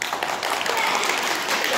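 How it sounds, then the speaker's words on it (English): A brief burst of clapping from a small group at a Christingle school assembly in a church, bright and steady throughout. "Let's give Miss Gordon a round of applause."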